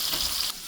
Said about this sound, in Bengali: সুন্দর করে ভেজে তুলে নিব মাছটা